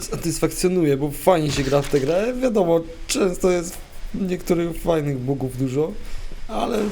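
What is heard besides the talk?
No everyday noise stands out behind the speech.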